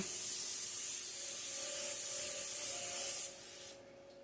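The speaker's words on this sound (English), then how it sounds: "I'm going to go ahead and spray my pan" A continuous hiss of cooking spray onto a baking pan lasting a few seconds, close and steady, then cutting off abruptly.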